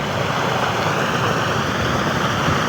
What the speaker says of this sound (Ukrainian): Вода постійно тече, постійно тече